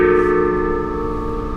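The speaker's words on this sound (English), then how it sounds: "There's a gong." Gong struck once just before the clip and ringing out, a loud sustained shimmering tone with layered overtones that fade only slightly over a second and a half, no voices.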